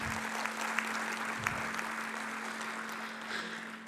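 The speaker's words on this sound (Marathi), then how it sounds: "एक जोरात टाळ्या वाजून त्यांचं आपण अभिनंदन करूया" Applause from an audience at the 25th anniversary program of Shri Chidambar Travels in Sureshbhat Hall, Nagpur, a steady wash of clapping running through the whole stretch at moderate level, with a constant low hum beneath.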